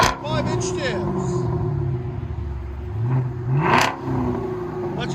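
Chevy Camaro SS with a 6.2L V8 and a Flowmaster Outlaw exhaust with 5-inch tips gives a deep, loud rumbling idle, then one sharp rev that climbs and drops back near the end.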